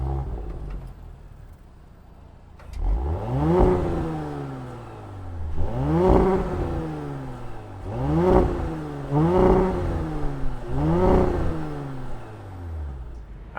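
A 2020 Audi S4 engine catches and settles, then gives a series of four or five sharp revs, each climbing quickly and falling back, loud and close.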